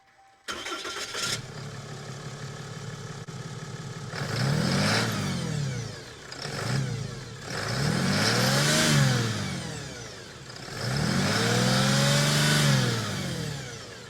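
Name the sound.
Ram 3500 diesel truck engine starting and driving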